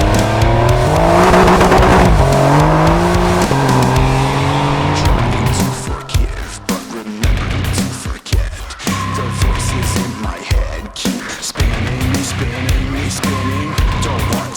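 A Porsche 911 Dakar sports car drives off-road on desert sand in the Sahara, its engine loud and revving near the listener, with tire scrabble and skidding amid bumpy, broken surges of noise.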